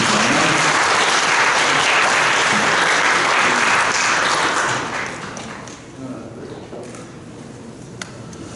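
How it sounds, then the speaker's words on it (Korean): A church congregation gives loud, dense applause at a Sunday worship service. It holds steady for about five seconds, then drops off into a few faint scattered claps and room noise. "큰 박수 부탁드립니다"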